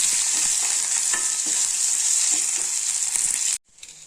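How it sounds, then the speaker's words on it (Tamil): Ginger garlic paste, curry leaves and capsicum sizzle and crackle steadily in a hot oiled pan, with occasional stirring scrapes, before the sound cuts off sharply near the end. "இப்போது இந்த இஞ்சி பூண்டு பேஸ்ட்டு, கருவேப்பிலை, குடமிளகாய் இதெல்லாம் போட்டுக்கலாங்க. நல்லா வதக்கி விட்டுக்கலாம்."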